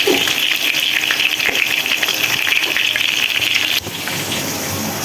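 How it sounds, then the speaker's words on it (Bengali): Onions fry with a little salt in a pan, a loud, close, continuous sizzling hiss that drops slightly in level near the end. "পেঁয়াজটা ভাজা হয়নি, লবণ দিয়ে দিচ্ছি সামান্য, কারণ লবণটা দিলে কি হয় তাড়াতাড়ি পেঁয়াজটা ভাজা হয়ে যায়"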